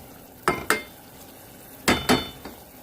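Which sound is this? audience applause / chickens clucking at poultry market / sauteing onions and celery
sauteing onions and celery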